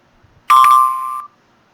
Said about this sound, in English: so a gong just went off for a flood warning